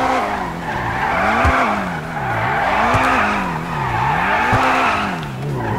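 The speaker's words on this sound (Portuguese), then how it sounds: "Ouviu o barulho do motor?" An Invetero Coquette D10 sports car engine in GTA 5 roars in repeated rising and falling revs, tires squealing as it drifts through turns, loud and close with no talking.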